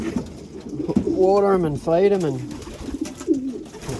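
Pigeons cooing in a loft housing young birds, two clear rising-and-falling coos close by, with someone talking over and around them.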